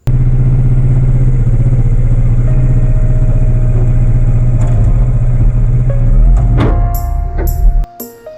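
Kawasaki Ninja 650 motorcycle being ridden, its engine droning loud and close at steady revs, then rising before wind noise and a few clunks near the end.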